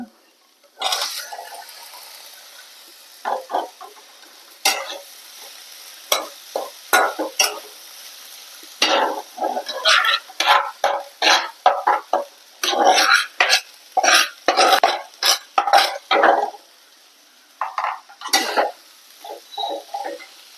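Raw plantain being stir-fried in a pan for Kerala kaya thoran, with a close run of quick scraping and stirring strokes that come in irregular bursts, growing busier toward the middle.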